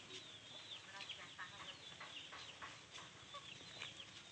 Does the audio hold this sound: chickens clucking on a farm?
yes